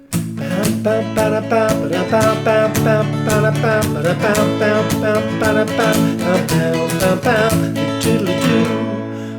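Strummed guitar chords with a steady driving rhythm, full and loud, chord changes every few beats with no voices.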